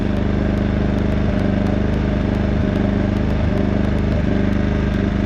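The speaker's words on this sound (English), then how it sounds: "I let it run until the carburetor runs dry" A Wen 56203i 2000-watt inverter generator runs steadily with its fuel valve turned off, a continuous close mechanical engine drone with a faint regular pulsing and no talk over it.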